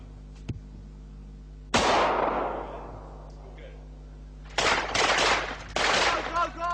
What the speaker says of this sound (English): Put your finger on the trigger. Get ready. Okay, it runs a bit low. That's a good shot.